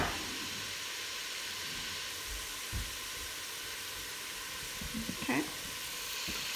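Meat for a spaghetti sauce sizzles steadily in a pan, a constant broad frying hiss with a few faint clunks of movement.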